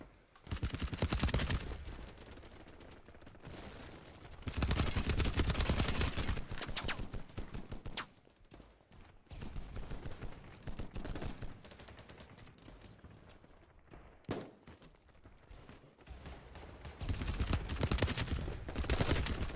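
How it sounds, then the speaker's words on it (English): Bursts of loud gunfire from BattleBit Remastered come in several separate volleys with quieter gaps between them, close and dense, without speech. "I was going to go shoot at that other guy and then he ran right into my bullets there"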